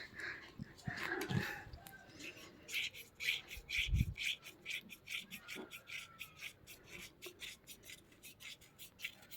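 A coin rubs across a scratch card coupon in quick repeated rasping strokes, soft and close, with a few handling bumps and a brief voice early on.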